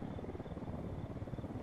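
Steady rotor beat of a helicopter in the Villa Verde video game, a dense, even chopping drone at moderate volume with no other sounds over it.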